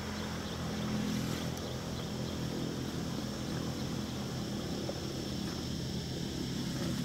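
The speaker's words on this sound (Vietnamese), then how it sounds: "có hai chiếc máy cày đang chạy ra các bạn." Two Belarus 820 tractors drive along, giving a steady, low, droning engine rumble with a broad hiss that stays faint and even throughout, with no voices.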